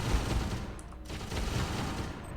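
Automated security turrets in System Shock 2 fire in a rapid continuous burst, a dense rattling spray of shots that fills the whole moment with only a brief dip partway through.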